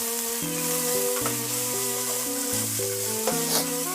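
Holy basil leaves and instant noodles sizzle and crackle as they are tossed in a hot pan, a steady close frying hiss with scraping stirs, under a melodic background music track.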